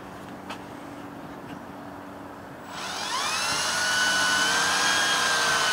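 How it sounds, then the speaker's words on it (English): A power drill driving deck screws into a board on an outdoor work table whines up from about three seconds, rising steadily in pitch and loudness, then holds a steady high whir to the end. "A couple of drill screws, deck screws."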